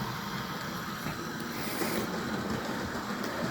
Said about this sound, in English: There she goes. I think she looks really good. Nice looking little train set.